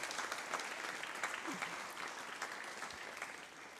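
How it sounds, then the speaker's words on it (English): Quiet, distant applause from a workshop audience thanking the speakers after a session, steady scattered clapping heard from afar throughout. "So a round of applause for our speakers"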